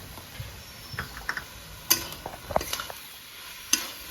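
Spring onion greens fry in a pan on a home stove and are stirred, giving faint, scattered scraping clicks and soft sizzling in a quiet kitchen with no talking.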